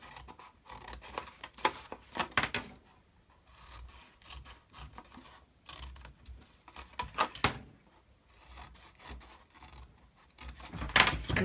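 Scissors snip through card flaps for a gift box in close, irregular bursts of crisp cutting and rustling, with quieter pauses between cuts.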